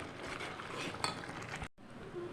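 Quiet scraping and soft clinks of a spoon stirring dry upma in a pan, steady and close, with one brighter metallic tap and a short dropout near the end.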